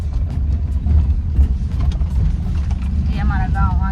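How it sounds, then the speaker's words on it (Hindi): A car driven along a village lane in India hums steadily with a low engine drone and road rumble throughout, close by, with faint voices and a brief warbling tone near the end. "देखो ये चला रहे गाड़ी।"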